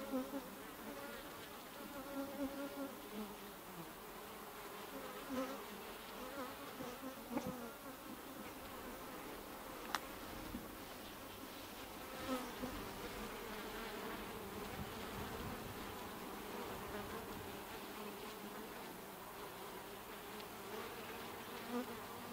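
Bees buzz around a horizontal hive in a dense, continuous drone, with individual insects drifting closer and farther over steady background hum.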